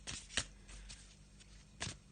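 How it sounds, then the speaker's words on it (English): Tarot cards being shuffled by hand, a faint, brief stretch of soft riffling and sliding with a couple of sharper snaps. "I'm just having a little shuffle of the cards"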